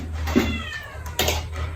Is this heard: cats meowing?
yes